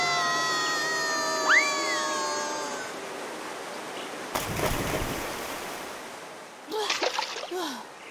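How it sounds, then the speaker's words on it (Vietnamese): A cartoon scene with a steady rushing roar of falling water from a waterfall ahead, broad and continuous, with splashy bursts, while characters speak over it. "Thác nước ở phía trước kìa."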